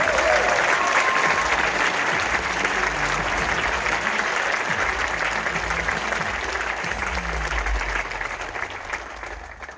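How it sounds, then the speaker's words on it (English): Sustained audience applause at a BMW concept car presentation at CES 2023, a broad wash of clapping from a large hall that slowly fades toward the end, with low murmurs underneath. "You deserve a big applause."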